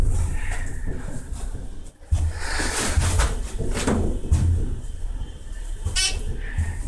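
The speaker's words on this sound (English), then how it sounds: "Door closes when I push the button." A Dover Impulse elevator door slides closed with muffled mechanical rumbles and knocks amid steady background noise, followed by a short electronic tone.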